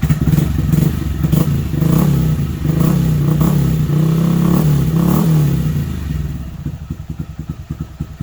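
A Honda Grom motorcycle engine running nearby, a steady loud idle with a low droning pulse that softens into a faster, lighter putter toward the end.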